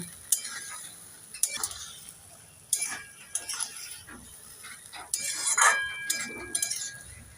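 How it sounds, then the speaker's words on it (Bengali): Vegetables and greens for a fish curry are stirred and sautéed in a pan with a little water, giving scattered close scrapes and clatters of the spatula over a low sizzle. "এবার নেড়ে চেড়ে সবজিগুলোকে 2 মিনিট ভালোভাবে কষে নেব।"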